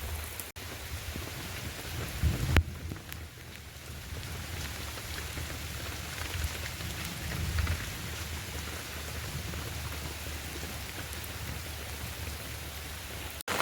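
Steady heavy rain pours down on surfaces, a dense continuous hiss with a low rumble, with no voices.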